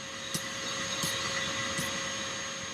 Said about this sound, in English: So it's leaking out of that wastegate